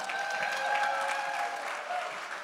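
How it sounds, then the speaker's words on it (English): An audience at a chamber of commerce Women of the Year event applauds a bank that sponsors it, a continuous wash of many hands clapping at moderate volume, with faint tones ringing through the room. "Let's give them a big round of applause."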